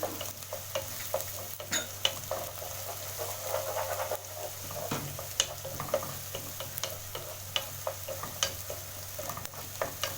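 Garlic and ginger cooking in a pan for matoke in coconut sauce, a quiet continuous sizzle with light stirring scrapes and small ticks throughout.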